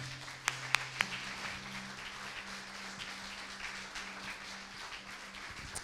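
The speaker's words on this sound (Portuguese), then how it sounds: "Você pode aplaudir ao Senhor?" A church congregation applauds, with a few sharp close claps at the start giving way to a soft, distant wash of clapping under a low background hum.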